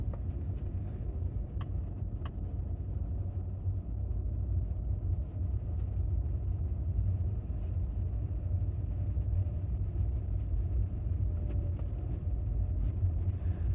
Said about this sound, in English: Let's see how the Tesla handles. I'm not touching the brake at all, I'm just using the regen.